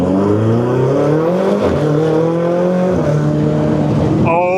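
A Ferrari 488 engine revs hard under a test pull, a loud close roar whose pitch climbs through several gears with brief dips at the shifts.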